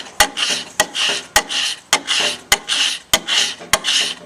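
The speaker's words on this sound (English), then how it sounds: "Now I'm going to start scraping right here." Scraping wood from the back of a bow to chase a single growth ring, a blade pulled in repeated rhythmic strokes about every 0.6 seconds, each a close, loud rasping drag with a sharp click at the start, no voices.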